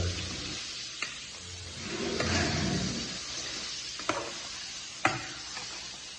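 Filipino barbecue-style chicken being cooked in a kitchen: soft continuous stirring and sizzling with a few sharp clinks of utensils against the pan, fairly faint and close, no talking.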